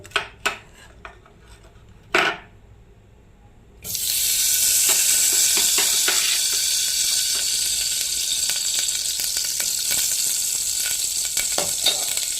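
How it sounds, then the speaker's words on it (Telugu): Cashews frying in ghee in a pan: a few utensil clicks, then a loud, steady sizzle starts and holds, with occasional scrapes and stirring clatter. "చూడండి, దీంట్లో నెయ్యి వేస్తాను"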